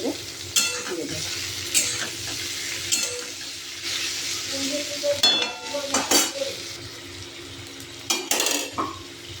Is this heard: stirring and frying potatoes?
yes